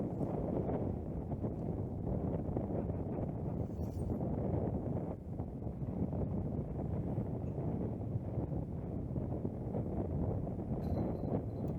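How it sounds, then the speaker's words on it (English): Wind rushing up a hill on a disc golf course during a winter league final: a constant, heavy roar buffeting the microphone, low and unbroken throughout. "the wind really does just rush straight up this hill behind Kane and just blow right over the top of it all"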